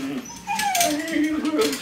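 Dogs whimper and yip in high, wavering whines that rise and fall over a couple of seconds, with a voice talking over them.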